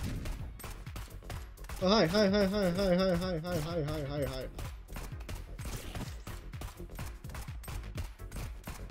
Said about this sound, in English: Aim and shoot.